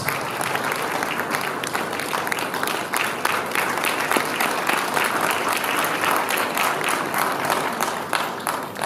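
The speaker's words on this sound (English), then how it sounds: "Can we please give him a big round of applause?" Dense audience applause fills a hall at the opening of a psychological association congress, sustained loud clapping from a large crowd lasting several seconds without pause.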